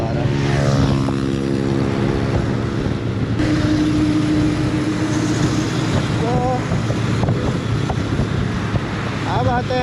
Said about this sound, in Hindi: बहुत हवा आ रहा है, बहुत हवा आ रहा है